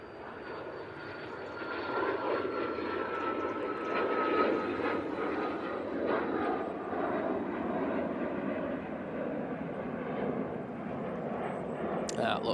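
Business jet departing Manchester Airport, a steady broad jet roar holding strong for the whole stretch with a faint whine riding over it, no voices on top.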